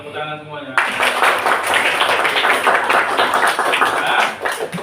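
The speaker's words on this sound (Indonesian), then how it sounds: "tepuk tangan semuanya" A class clapping their hands together: after a short moment of quiet, a dense burst of many overlapping claps starts abruptly and carries on steadily like applause, loud and close.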